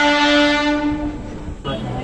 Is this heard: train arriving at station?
yes